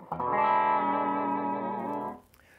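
A Gibson SG electric guitar held on a sustained chord while its sideways vibrato dips the pitch slightly out of tune, heard alone, close and fairly loud, before it cuts off.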